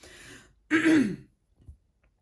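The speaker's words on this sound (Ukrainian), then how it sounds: "Просто треба прокашлятись." A single loud, gravelly throat clearing, preceded by a faint rasp and followed by a small soft grunt, then quiet.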